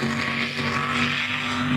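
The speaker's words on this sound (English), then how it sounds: "He's got some RPMs, but he's got low-end torque. He don't have any high-end speed." A mud racing truck's engine roars in a continuous, loud low rumble with a steady droning tone at an outdoor mud racing event.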